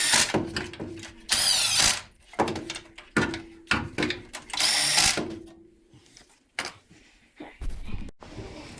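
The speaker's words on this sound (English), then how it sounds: "I'm just gonna torque them down with this ratchet and see if I can get them tightened up" Hand ratchet snugging down cylinder head bolts on a mini truck during a head gasket replacement, a series of close, loud clicking bursts with broadband rasping swipes separated by short pauses and workshop clatter.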